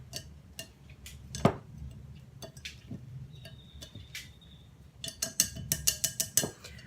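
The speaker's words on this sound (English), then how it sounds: "So this is all my dry ingredients, okay? And I'm just going to mix these all together." A utensil knocks and scrapes against a bowl while dry baking ingredients are stirred together, with scattered clinks early on that speed up into a quick run of sharp taps near the end.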